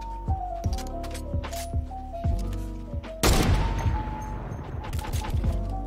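Sniper and other gunfire in the Fortnite video game, a rapid series of sharp shots and booms with a loud crashing burst midway over a tonal game soundtrack.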